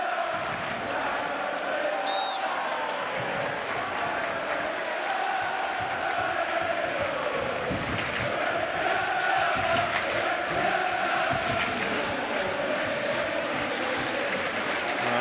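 The football crowd at Dean Court, home of AFC Bournemouth, applauds and cheers during a Championship match against Bolton, a sustained wash of clapping and roaring that stays steady throughout, with commentary voices faintly beneath.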